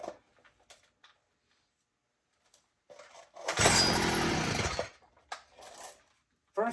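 A Stihl MS361 chainsaw pulled on choke fires briefly with a loud, rough engine burst of just over a second, set between scattered quiet handling noises and short bits of speech.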